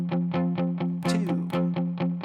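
An electric guitar strums distorted power chords from the verse of a song in a steady, driving rhythm of about ten loud, close strokes, with a brief scratchier flourish near the middle.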